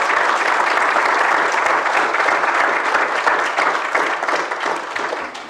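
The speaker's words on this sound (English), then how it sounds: "I appreciate the applause" Sustained, dense audience applause fills a council meeting chamber, loud and steady throughout before tapering slightly toward the end, with no voices over it.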